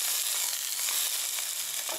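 Pork loin searing in a hot pan gives a steady, dense sizzle with small crackling pops. It sounds close and fairly loud, carries on unbroken from start to finish, and has no talking over it.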